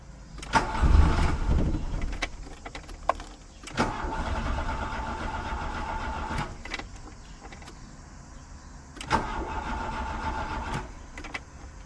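A Volkswagen Golf 1 GLI with a fuel pump fault is restarted: repeated cranking bursts with a whirring starter and rough catching, separated by quieter idle stretches and sharp clicks, heard up close.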